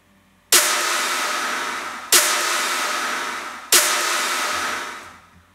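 Four stacked snare samples, including a clap, triangle and tonal snare layer, hit together three times at an even pace, each loud bright crack trailing off in a long hissy decay.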